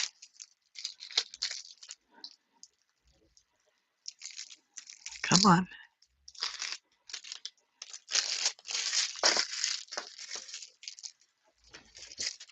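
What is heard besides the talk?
tearing open a tarot card deck package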